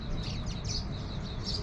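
Small birds chirp and tweet in a bird shop, quick high calls repeating over a steady low background hum, fairly close and moderately loud throughout.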